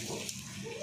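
Water being poured into a cooking pot in a home kitchen, a short steady splashing pour with a broad hiss, heard alone without talk.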